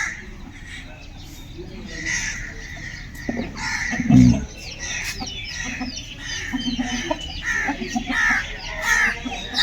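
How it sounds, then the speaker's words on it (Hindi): Chickens and small chicks on a home poultry farm cluck and peep steadily in the background, with one louder squawk partway through and a busy mix of bird calls throughout. "ये छोटे छोटे चूजे आपको दिखाते हैं।"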